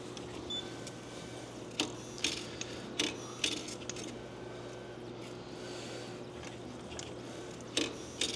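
A Neoden YY1 pick and place machine runs with a steady low mechanical hum, punctuated by quiet, irregular clicks and ratcheting ticks from its moving head, faint and with no talking.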